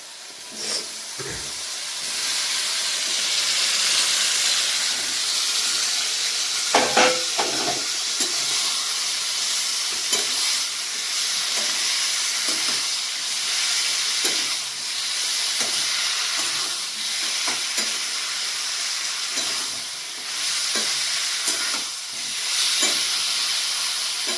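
Potatoes and unripe jackfruit sizzle in a frying pan, a steady hiss broken by repeated scraping and stirring clicks from close by.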